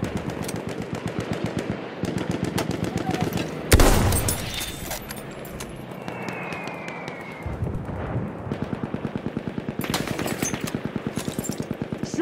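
Machine gun fire in the video game Battlefield 1: a steady, rapid stream of loud close shots runs almost the whole way through, broken by a heavy blast and scattered battlefield noise.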